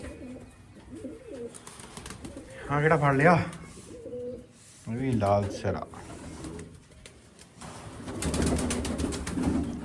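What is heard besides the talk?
pigeons cooing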